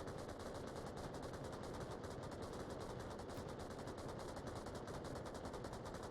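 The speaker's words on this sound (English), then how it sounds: "lots of gunfire coming out from these guys" Dense automatic gunfire in the VR shooter Onward during a competitive match, rapid bursts crackling continuously and loudly for several seconds with no pause.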